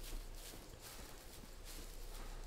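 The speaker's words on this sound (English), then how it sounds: "Oh my god, a horse!" Hooves of a horse in the survival game SCUM clip-clop in a quiet, steady walking rhythm, faint and distant against a soft background hiss, with no voices.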